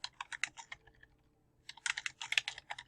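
Computer keyboard typing in quick bursts of crisp key clicks, a flurry at the start, a short pause, then a second denser run, fairly close and with no voice over it.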